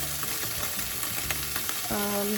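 Fried rice with eggs and ham being stirred in a frying pan, a steady close sizzle broken by scraping utensil strokes, with a low background tone near the end.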